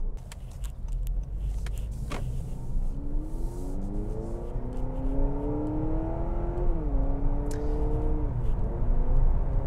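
A 2023 Honda CR-V Sport Touring Hybrid accelerates in sport mode, its engine note climbing steadily in pitch with a brief dip as it mimics a gear change, heard from inside the cabin over road noise.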